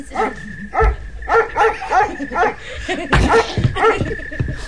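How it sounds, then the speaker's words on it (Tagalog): A dog barks in a quick run of sharp, loud barks close by, with a few yips and whimpers between them and some voices in the background. "Kala ko si Merly yung tumatahol"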